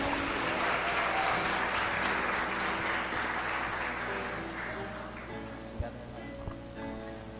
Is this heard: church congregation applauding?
yes